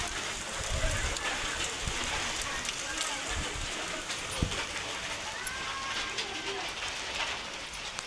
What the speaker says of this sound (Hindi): बहुत तेज़ की बारिश आ गई है।